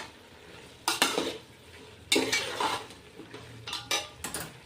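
Masala sautéing in oil in a pan for vegetable pulao, with several bursts of a spoon scraping and clattering against the pan over a quiet sizzle.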